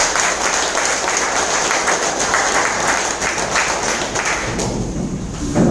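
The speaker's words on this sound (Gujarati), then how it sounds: "લીડર માટે જોરદાર તાળીઓ." A live audience breaks into loud, sustained applause for a leader at a business income seminar, dense clapping holding steady for several seconds before thinning slightly near the end.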